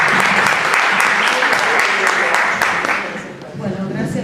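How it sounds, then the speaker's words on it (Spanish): An audience at a Spanish linguistics and grammar conference panel breaks into dense, steady applause that carries on for several seconds before thinning out toward the end. "¡Aplausos!"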